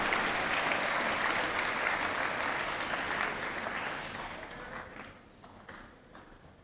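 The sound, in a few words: audience applause for a poet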